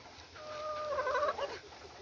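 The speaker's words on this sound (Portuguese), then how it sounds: "A galinha fez velhado. Olha que galo mais lindo, vê?" A hen gives a short, drawn-out cackle near a rooster at a rural backyard plot with fed chickens, a single rising call lasting about a second against quiet outdoor background.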